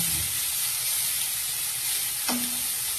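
Egg dish with tomato sauce sizzling in a pan on a gas flame, a steady broadband hiss throughout with a brief stirring scrape near the end, close and fairly loud.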